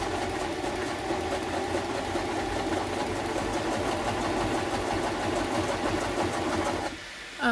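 A sewing machine runs steadily and loud for about seven seconds during a Friday night crafting session, its rapid mechanical whir continuous before stopping abruptly near the end.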